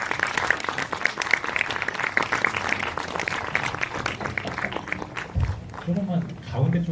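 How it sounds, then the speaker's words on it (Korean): Audience applause at a Seoul Independent Film Festival short-film Q&A: a dense, steady wash of clapping from a large crowd, fading near the end as a voice speaks over it. "앞으로 나와주시면 큰 박수 부탁드리겠습니다"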